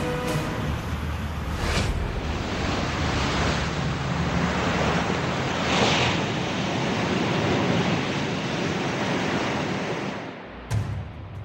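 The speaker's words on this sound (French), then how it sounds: "La vague de Belharra est réputée pour être la plus haute vague du monde." The giant Belharra wave breaks off the Basque coast near Saint-Jean-de-Luz as a sustained broadband roar of surf, steady and loud, easing off near the end with a brief thump.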